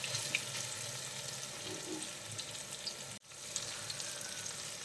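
Prawns frying in hot oil with curry leaves for a Kerala prawn pickle, a steady close, dense sizzle that carries on throughout with a brief break near the end and no talking.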